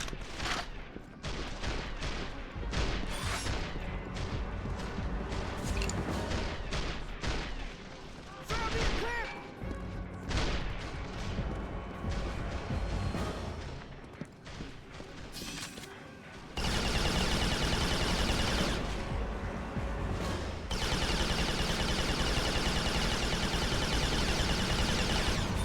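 Turret gunfire in Resistance: Fall of Man, a shooter game, comes as loud sustained bursts among crashes and impacts, with speech over parts of it and the firing swelling again toward the end.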